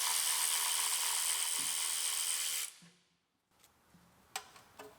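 A ratchet with an extension works the bottom starter bolt on a 1993 Mustang GT. A loud broad hiss stops abruptly, followed by quiet and a few sharp, close metallic ratchet clicks.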